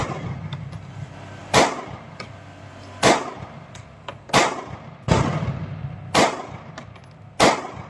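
Six sharp Sig Sauer P365 pistol shots ring out at roughly one-second intervals during range testing, each a loud close crack followed by a short echo, with quiet stretches between.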